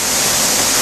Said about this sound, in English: Unloading the beans.